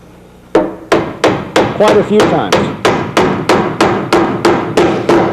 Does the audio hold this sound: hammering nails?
yes